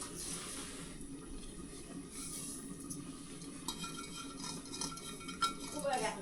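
Sesame seeds roasting in a pan for village-style Nepali jhol momos, heard as a steady close scraping and rattling with metallic stirring clinks over a dry, crackling bed.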